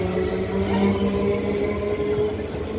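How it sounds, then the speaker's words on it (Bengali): A Dankuni–Sealdah local train pulls out of Dakshineswar station with a steady rumble of wheels on rails and a thin, high metallic squeal ringing over it. "ডানকুনি শিয়ালদা লোকাল দক্ষিণেশ্বর ছেড়ে বেরিয়ে যাচ্ছে তার শিয়ালদার উদ্দেশ্যে"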